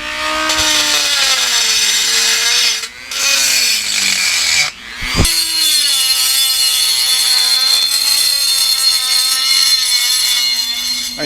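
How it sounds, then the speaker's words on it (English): A Dremel rotary tool with a small grinding wheel grinds a snapped metal bike frame, a loud, steady high-pitched whine that dips twice, with a short pause and a harsh scrape where the wheel bites. "we're just going to use the Dremel tool with a little grinding wheel on it"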